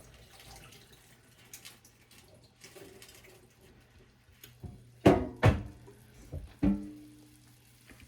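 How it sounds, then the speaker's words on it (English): Water from a pot of cooked peppers being dumped out into a sink, faint running first, then several loud splashing gushes in quick succession near the end. "And I'm going to dump this water out."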